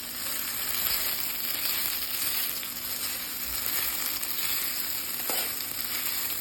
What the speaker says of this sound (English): It's sizzling hot.